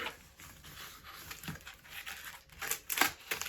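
A plastic bag crinkles and rustles while a parcel is unpacked, with soft, irregular rustling near the listener that grows into a few louder crackles toward the end.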